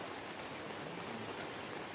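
Heavy rain pours steadily through a forest canopy, a dense, continuous hiss of drops on leaves with no break, loud and close throughout.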